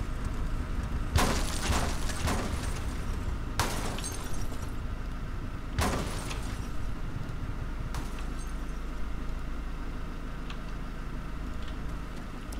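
A vehicle blows up in the Arma 3 Altis Life game, with several sharp blasts and crashing impacts spread over the first half, then a steady rumbling roar that carries on to the end.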